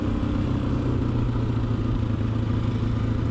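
A Honda XLR125R motorcycle rides along a French trail, its mid-pitched single-cylinder engine droning steadily and loud throughout with a constant rumble and slight clatter.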